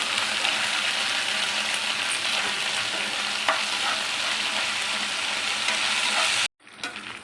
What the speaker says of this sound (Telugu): ఇలా అల్లం వెల్లుల్లి వేసుకున్న తర్వాత పేస్ట్ వేసుకున్న తర్వాత ఫ్రై చేసుకోవాలండి, పచ్చి వాసన పోయే వరకు